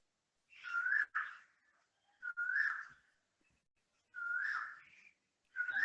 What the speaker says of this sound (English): I think he has a bird speaking for him.